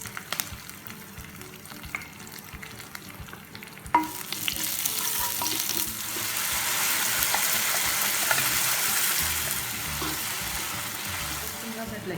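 Oil with cumin and spices frying in a pan for paneer butter masala gravy, close and steady, with a sharp clink and stirring scrapes, then the sizzle swelling louder and hissing on without voices.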